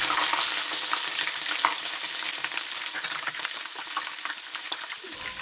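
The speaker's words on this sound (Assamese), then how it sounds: "এয়া আদা আৰু নহৰুখিনি এতিয়া গৰম তেলত ঢালি লৈছো।" Ginger and garlic drop into hot oil for a green chilli pickle, setting off a loud crackling sizzle with popping spatter that eases slowly, close up with no voices.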